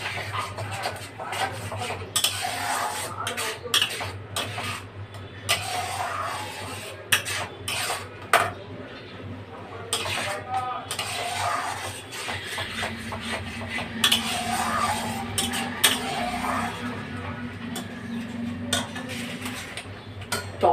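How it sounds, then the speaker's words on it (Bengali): A pan lid clatters off and a spoon scrapes and knocks as curry is stirred in the pan. The clinks and taps are irregular, and faint background sounds carry under them. "ঢাকাটা সরিয়ে একটু নেড়ে দেবো"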